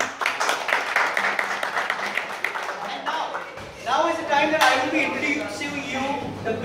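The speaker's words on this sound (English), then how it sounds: "So please clap for all the regions who've come here" A crowd at a KTM motorcycle riders' meet in Thane claps steadily for the visiting rider groups, then the applause continues under an announcer speaking over a loudspeaker.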